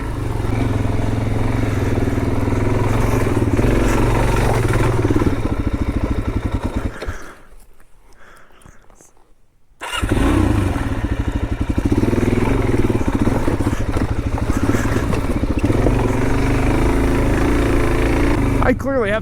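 Suzuki DRZ400 dual sport motorcycle ridden off-road, its engine droning loud and steady with a close, rough clatter, briefly dropping away for a couple of seconds before surging back.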